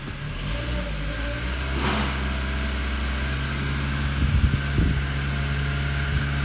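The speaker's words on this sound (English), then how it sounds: "I'll just hold the revs up a little bit." A 2007 Ford Focus 1.6 engine held at raised revs during cooling system bleeding, a steady close mechanical drone with constant low tones and a few brief knocks and clatters.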